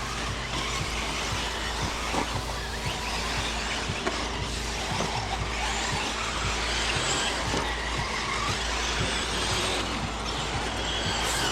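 Electric RC truggies race around a track, their motors whining in a steady, continuous buzz with faint clicks and bumps from the cars, heard from a distance with no clear talk.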